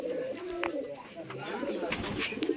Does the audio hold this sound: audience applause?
no